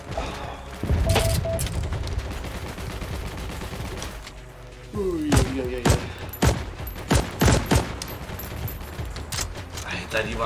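Weapon fire in the World War II video game Heroes & Generals: a burst of gunfire, then a sequence of distinct loud shots in quick succession over a busy battlefield background.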